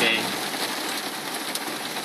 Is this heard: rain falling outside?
yes